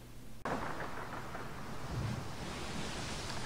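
A staged storm sound effect in a theatre show bursts in suddenly as a loud, continuous roar of rumbling thunder and rushing wind-like noise that fills the whole clip.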